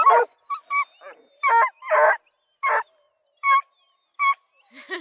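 A crew of hound dogs, Blueticks, Redbones and Black and tans, bark and whimper in loud, close, separate bursts with short pauses between, some yelps and whines rising high.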